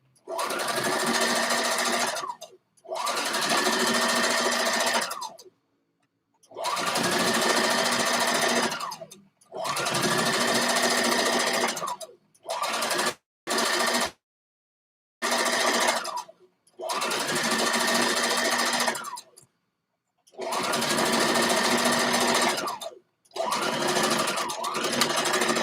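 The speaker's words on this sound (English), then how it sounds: "I stretch in my fabric as I sew." A sewing machine stitches stretched fabric in repeated loud whirring runs of a few seconds each, separated by short pauses and brief stop-start bursts.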